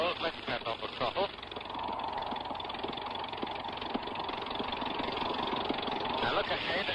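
A Tiger Moth biplane engine drones steadily and loud throughout, a continuous low rumble with propeller throb, while people talk over it.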